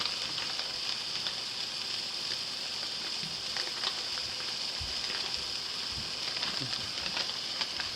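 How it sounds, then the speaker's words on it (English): Burger patty sizzling in a cast iron pan for a bacon cheeseburger pizza, a steady broadband hiss with scattered pops and crackles, fairly close and continuous, no talking. "So the burger is cooking nicely."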